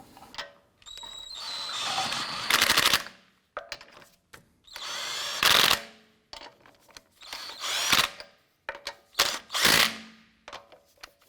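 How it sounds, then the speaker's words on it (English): An impact wrench or power ratchet runs on lug nuts of an Acura TL wheel in a garage: several short whirring bursts, each rising into a louder rattling hammer, separated by pauses, close and with no talk. "Get our lug nuts all started by hand first, and then we'll snug those down."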